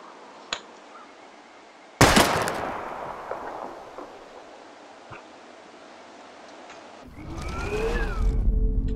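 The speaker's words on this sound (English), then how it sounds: "We're gonna shoot all these bottles without wasting a single bullet." Gunshots from the Life is Strange video game, fired at bottles, crack out as one sharp loud shot followed by a decaying tail, with faint clicks before and a rumbling noise near the end.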